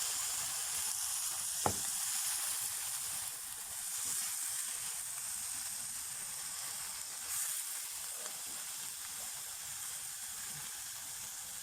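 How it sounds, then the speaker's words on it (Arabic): Sliced zucchini sizzling steadily as it fries in a pan on a home stove, a continuous bright hiss lasting throughout with a few small pops, close and without talk. "نحمسها شوية شوية، نشوحها على النار ونشيلها"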